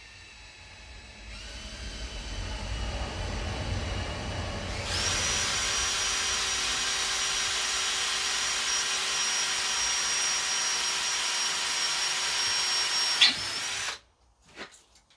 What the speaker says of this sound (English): Now you saw that drill was wobbling going in.